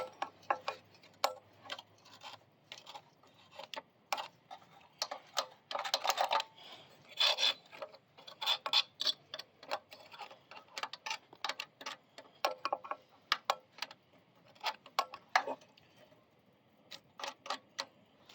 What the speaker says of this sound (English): Take a screwdriver and I'll get some of these chunks out of here.